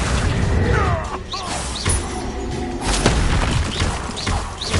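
Bombarda and Confringo spell blasts in Hogwarts Legacy, repeated loud booms and crashing impacts amid busy combat effects and whooshes, thudding every second or so.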